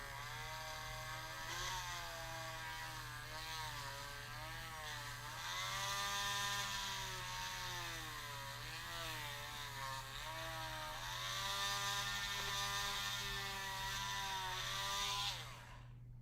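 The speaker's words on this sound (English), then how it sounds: "Drill all the way through with an actual drill bit." A drill with a drill bit runs continuously at close range, boring all the way through, its motor pitch rising and falling as it bites through material, then cuts off abruptly at the end.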